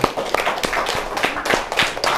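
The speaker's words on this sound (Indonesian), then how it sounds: "Oke, terima kasih, tepuk tangannya." A classroom group claps in applause, a dense run of overlapping hand claps at steady loudness for a couple of seconds, with a faint voice underneath.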